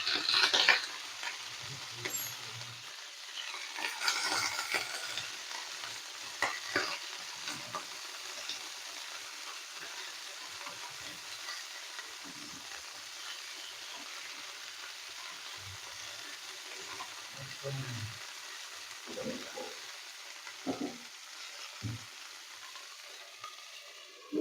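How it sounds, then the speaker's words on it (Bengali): Cauliflower for rezala frying in a covered pan, a steady bright sizzle running throughout with occasional scrapes of stirring, close and alone without any voice. "ডেকে 2-3 মিনিট একটু ভেজে নেব, হালকা ভাজতে হবে।"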